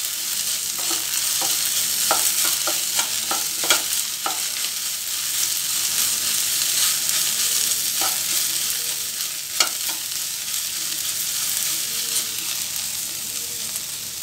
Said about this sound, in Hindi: पहले इसको मिक्स कर लेते हैं, फिर इसमें हम चाट मसाला डालेंगे।